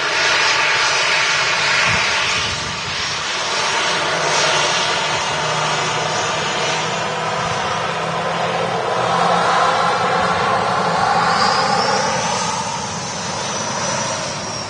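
SAS A320neo airliner taxiing out, a loud steady jet engine whine and roar with shifting tones, swelling and easing, with a rising whistle near the end.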